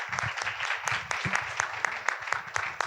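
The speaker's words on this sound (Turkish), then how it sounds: "kocaman alkışlarınızla videonun hemen sonunda Jülal Zalma hanımefendiyi sahneye davet ediyorum." Audience applause at a sales seminar in Turkey welcomes a presenter to the stage, a steady wash of many hands with sharp individual claps standing out nearby.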